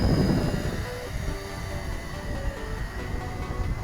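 A JJRC H16 Tarantula X6 quadcopter drone flies in gusty wind, a steady buzzing whir of rotors blended with broad wind rumble, moderately distant and continuous, with no speech.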